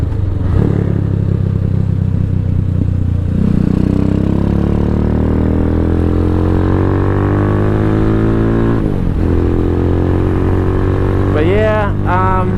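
Venom X22R motorcycle on a night ride, a loud close engine drone rising and falling through the gears with wind rush, a shift dip near the end and someone speaking over it.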